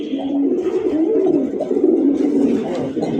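A red Rasgolla pigeon, one of a breeding pair, coos close by in a continuous low, rolling, throaty call that rises and falls with no pause and nobody talking.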